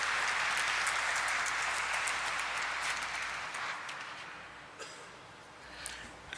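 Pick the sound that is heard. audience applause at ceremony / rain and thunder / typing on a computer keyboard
audience applause at ceremony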